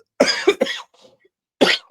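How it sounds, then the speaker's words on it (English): A few sharp coughs close to the microphone, a quick burst of three, a short pause, then two more. "hold on, I'm gonna cough"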